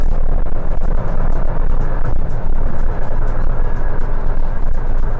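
Steady loud road and engine rumble from inside a Toyota Yaris Cross hybrid moving at speed, with continuous low-frequency roar and wind noise, no talking.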